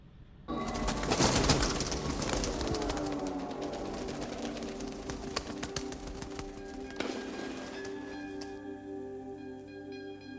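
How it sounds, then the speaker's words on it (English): A pigeon coos in a scene from the 1993 action film Hard Target, its low, rolling calls mixed into a loud, swelling film soundtrack with sliding tones that carries on for several seconds, with no dialogue. "the pigeon lands on his dog tags"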